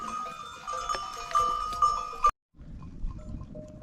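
A male lamb, recently separated from its mother, bleats several times in short wavering calls, close by, with faint farmyard noise in the background and a brief silence midway.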